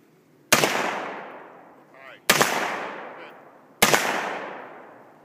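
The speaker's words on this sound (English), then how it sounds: "It's impressive that Kyle can return fire like that" Gunfire at a shooting range: three loud, separate shots about a second and a half apart, each followed by a long rolling echo, with a faint voice between the first two.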